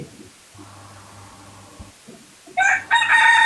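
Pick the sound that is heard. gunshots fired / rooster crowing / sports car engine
rooster crowing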